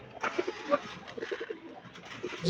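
Pigeons coo softly and close by, a steady murmur of low throaty calls under faint background noise.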